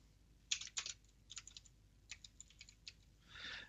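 Fingers typing a spreadsheet formula in LibreOffice Calc on a computer keyboard: a run of quiet, close key clicks in an uneven rhythm, some in quick pairs, ending in a short soft rustle.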